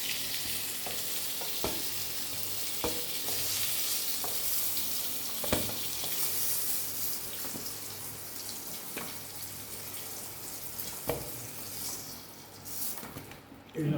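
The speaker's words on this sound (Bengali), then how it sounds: "এবার এটাকে বাড়িয়ে দিয়ে আমি এটাকে ভেজে দিই" Chopped pointed gourd (potol) fries in a pan for a moong dal dish, a soft, steady sizzle with occasional stirring clicks and scrapes throughout.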